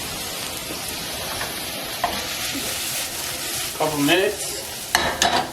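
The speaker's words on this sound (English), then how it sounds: "These are some white mushrooms that I diced up very small. Just gonna sear them a little bit." Finely diced white mushrooms sear in a hot pan with a steady, close sizzle and frying crackle, joined by occasional stirring scrapes, while a voice briefly speaks.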